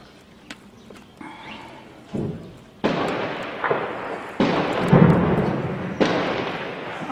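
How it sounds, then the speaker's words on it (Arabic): Explosions in the Baba Amr district of Homs during shelling, heard as a series of heavy booming blasts that build in loudness, with several sharp onsets and rumbling tails one after another. "أصوات الانفجارات."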